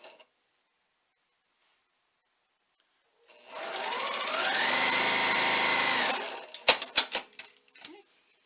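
A sewing machine runs a quarter-inch seam joining quilt block pieces, one continuous motor whir of about three seconds that ramps up and then stops, followed by a few sharp clicks and clatters.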